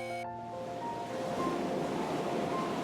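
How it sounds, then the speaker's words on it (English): Ocean waves crash against the rocky shore of Alcatraz island in a steady, washing surge with wind, while a faint tonal hum fades out at the start. "The waves crash against the rocks of Alcatraz, just as they did that night in 1962."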